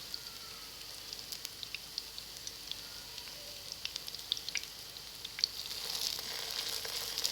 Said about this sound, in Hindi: अब हम कबाब की साइड चेंज कर लेंगे।